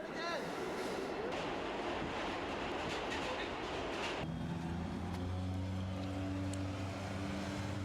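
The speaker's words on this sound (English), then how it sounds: "That's the F train, New York City." A New York City F subway train rumbles past with a loud, rushing roar before settling into a lower, steady hum and rattle.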